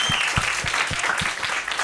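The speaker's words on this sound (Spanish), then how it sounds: "Un aplauso para las carpas, por favor." A live audience claps along at a comedy show, brief applause with a few strong, evenly spaced beats standing out over the dense clatter of hands, lasting under two seconds.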